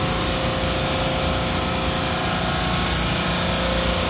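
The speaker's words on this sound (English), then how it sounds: "We have a compressor unit." Compressor unit of a commercial multi-zone cooling system in a mechanical room, a loud, steady mechanical drone with constant whine and hum, unbroken and close.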